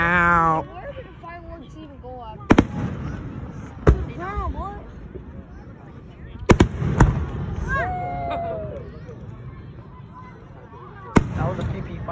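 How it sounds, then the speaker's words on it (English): Fireworks exploding, several sharp, loud bangs spread irregularly across the stretch, with whistling rising tones in between and people talking throughout. "That was a PP firework, bro."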